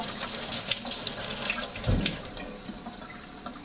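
Water runs steadily from a kitchen tap to rinse tomato seeds in a sink, a close, continuous splashing hiss that swells briefly as the flow hits the seeds, with no talking.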